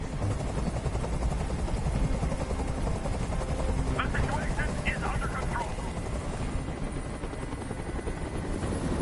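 Loud, steady thumping rotor drone of a helicopter in Detroit: Become Human fills the whole stretch, close by, while someone speaks briefly over it.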